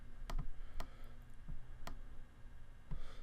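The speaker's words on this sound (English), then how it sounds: "we'll go ahead and right click, hit copy." A computer mouse gives several quiet, sharp clicks spaced irregularly during Excel work, including right clicks, each a crisp isolated tick over a faint low background hum.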